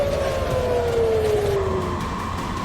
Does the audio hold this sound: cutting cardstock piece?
no